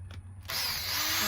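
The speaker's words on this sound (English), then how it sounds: "what I do for my solo cups is just take a drill and" A power drill boring holes in the bottom of red plastic solo cups, starting with a short quiet pause and then a loud, continuous close-up whirring buzz that holds steady to the end.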